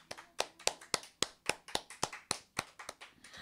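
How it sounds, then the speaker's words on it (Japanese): Scattered, fairly sparse clapping from a small audience at a live music show, a dozen or so distinct sharp claps in an uneven rhythm, close and moderately quiet, with no talk over it. "大きな拍手で、"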